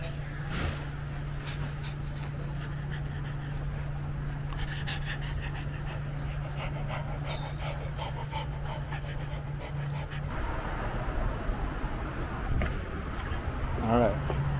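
A dog pants steadily and close by at a low level, a continuous rhythmic breathing with faint background noise and some brief clatter toward the end.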